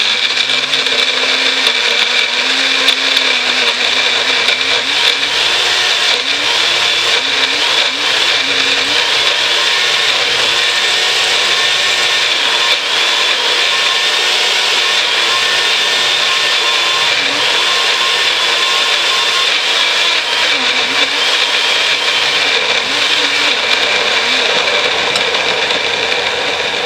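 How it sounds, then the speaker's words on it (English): A mini bullet blender runs continuously for nearly half a minute while mixing banana cake ingredients. It gives a loud, steady, high-pitched motor whir with slight wavering as the contents churn, close up and without speech. "Sounds like the mini bullet's done its thing."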